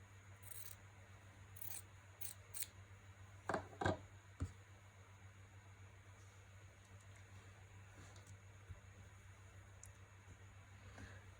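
Scissors snip through fabric in a few short, crisp cuts, close but quiet, over a low steady background hum, with no talking.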